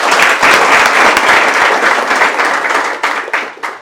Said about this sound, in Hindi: चलो तालियां हो जाए यार